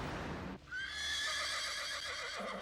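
Hungarian horse gives a loud, close whinny that starts about half a second in and rings on with a wavering, descending tail, following a brief burst of earlier noise.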